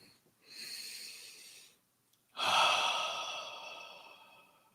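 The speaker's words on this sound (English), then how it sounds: "Another deep breath." Two deep breaths during a meditation practice: a soft, longer inhale followed after a pause by a stronger, airy exhale that slowly fades, close and clear with no speech.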